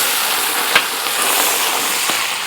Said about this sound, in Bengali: মাছ ভাজা এখনো হচ্ছে